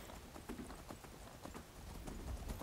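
Horse hooves clip-clop at a steady walking rhythm in the video game Skyrim, a close, moderately loud series of dull thuds over a faint background hum.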